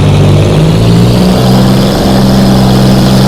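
A Hawker Hurricane's piston engine idling on the ground at Manston under low cloud, a loud, steady, low throbbing drone with a slight shift in pitch partway through.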